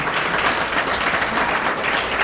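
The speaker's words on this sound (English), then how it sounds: "why don't we give their choir director, everybody that's involved, a round of applause" Audience applause fills the room after a choir performance, a steady dense clapping from a crowd held at full volume throughout with no talking over it.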